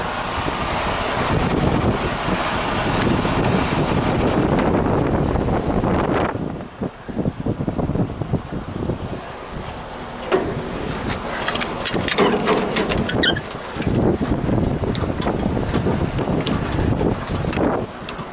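Strong wind buffets a microphone on a boat in a northerly breeze, a steady loud roar with gusty rumbling that dips briefly midway before surging back, no speech.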